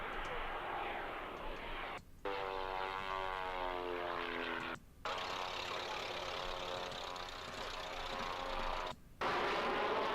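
Aircraft engines drone steadily at Waddington, a sustained propeller-like roar with shifting tones, cut by brief gaps of silence.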